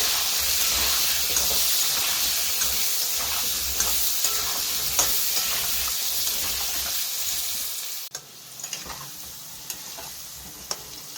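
Potato pieces tossed with salt and turmeric fry in hot oil for a Bengali rohu fish curry, stirred often. A close, steady sizzle with light scraping clicks drops sharply near the end.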